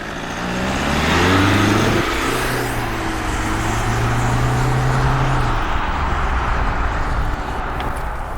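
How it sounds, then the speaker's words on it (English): A Ssangyong Rexton SUV with a 2.2 litre diesel engine drives along, its engine note rising as it accelerates and shifts, then settling into a steady hum with road and tyre noise. "Okay, so driving the Ssangyong Rexton."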